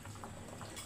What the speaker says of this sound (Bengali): আমি এটা জাস্ট একটু জল দিয়ে দিই।